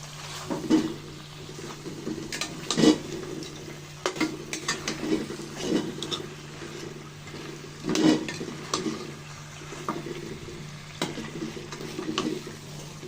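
A spatula stirs and scrapes chicken in spice masala in a pan for chicken roast, with irregular scraping strokes over a low frying hiss and no talking.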